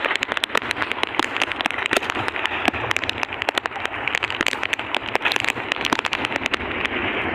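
Steady rain pattering on a surface, a dense continuous crackle of drops with no pause, fairly loud and close.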